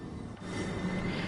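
Steady rumble of a British Class 376/378 electric multiple unit running on the East Coastway route in Train Sim World 5, a continuous low drone with faint hum, alone and without talk.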